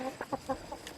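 A hen sitting on her eggs in a farm coop clucks in a short run of soft, low, close calls with brief gaps between them.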